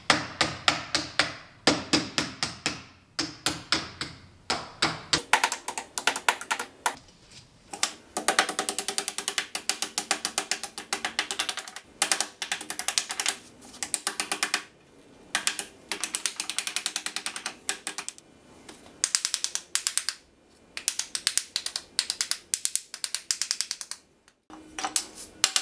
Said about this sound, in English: now we just start bending these tabs down to get the copper to lock onto the farm